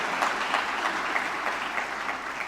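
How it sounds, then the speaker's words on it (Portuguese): An audience at an agribusiness awards event, Personalidade Agro do Ano, breaks into steady, continuous applause of many hands clapping together at an even level throughout. "Merece aplausos também"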